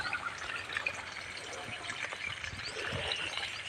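Water driven by tank pressure pours into a basin, a faint, even rushing trickle that stays fairly constant with small splashy fluctuations.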